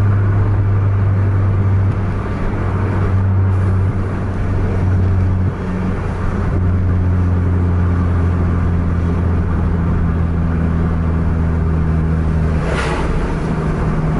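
Two racing coaches, a Scania K410 and a Mercedes-Benz 1626, with a heavy diesel engine droning loudly and steadily at high load, its low hum shifting pitch as the throttle is pushed, with no voices.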